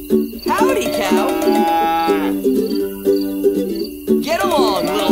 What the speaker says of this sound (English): Cowpoke Clifford will bring the cows home!